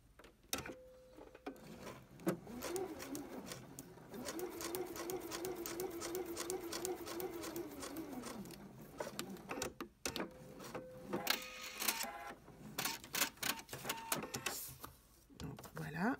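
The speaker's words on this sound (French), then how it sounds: "Je vais baisser l'aiguille et coudre." A sewing machine stitches a paper-pieced quilt seam, its steady motor whir and rapid needle rhythm running continuously for several seconds, close and clear, before stopping amid handling noises.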